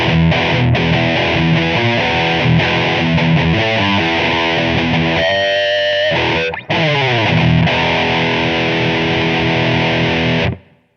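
An electric guitar with a standard humbucker pickup plays a heavily distorted tone in loud, continuous riffs and sustained chords, with a short break near the middle before it stops abruptly.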